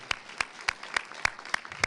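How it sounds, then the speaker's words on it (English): At a children's awards celebration, sharp individual hand claps ring out in an even, steady rhythm, about seven crisp, close claps in under two seconds. "Let's give a big round of applause, first and foremost, to the kids here and their families and parents and teachers."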